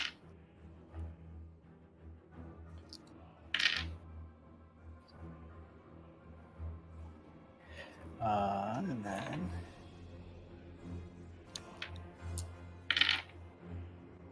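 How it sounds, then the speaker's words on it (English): Dice for a tabletop D&D game clatter in a few short bursts across a table, crisp rattling hits spaced apart, with someone speaking briefly between rolls. "I got a couple of dice to roll here"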